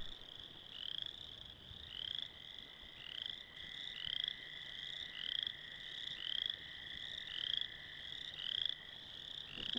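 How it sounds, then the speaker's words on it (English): A frog croaks in a steady repeating rhythm of short, bright calls, about one per second, clear and alone over quiet background hiss. "I croak myself to sleep at night on an empty stomach."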